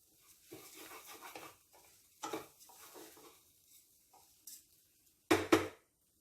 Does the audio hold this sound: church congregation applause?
no